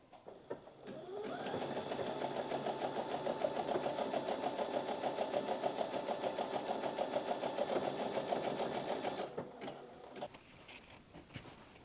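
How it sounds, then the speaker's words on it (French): A sewing machine stitches a zigzag on fabric for a produce bag, a rapid, even mechanical whirring with rhythmic needle clatter running steadily for about nine seconds before stopping. "je vais quand même coudre un point zigzag pour la même raison que j'ai mentionné plus tôt"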